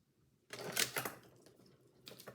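Paper being cut for a craft album makes a few close, crisp snips and rustles, one burst followed by quieter trailing cuts, with no talking.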